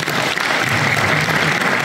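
Sustained audience applause at a motorcycle festival adventure awards gala, a loud, dense and even crowd of clapping hands lasting a couple of seconds.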